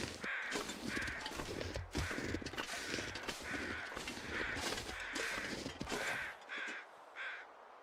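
Crows cawing in the wintry wilderness of The Long Dark video game, a rhythmic run of about a dozen harsh caws in steady succession, fairly loud and close, fading slightly at the end.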